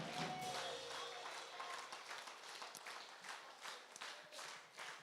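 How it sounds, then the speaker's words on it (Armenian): A church congregation breaks into applause for Jesus, a dense burst of clapping that starts strong and tapers into scattered, uneven claps over a few seconds. "Ծափարիր Հիսուսին, նա արժանի է։"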